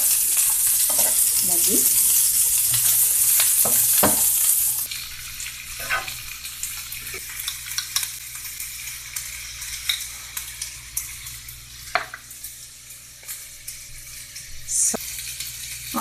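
Onions sautéing in a pan for paneer butter masala give a loud, steady sizzle for the first few seconds, then settle into a quieter crackle with scattered spoon scrapes and stirring knocks, and a voice speaks briefly.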